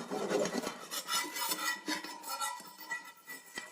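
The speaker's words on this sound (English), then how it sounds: "I always tap it once on the stove just until it loosens" A pan of rösti being cooking for Zürcher veal scrapes and clinks against the stovetop in a series of short metallic taps and rubs, close and clear, with no talk.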